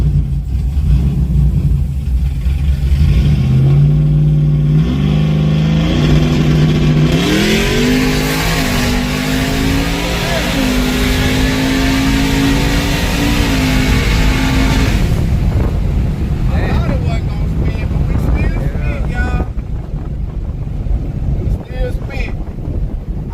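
A loud drag racing car revs hard at a raceway, tires spinning, holding a high, rising pitch for several seconds, then dropping off into rumbling roar and wind noise.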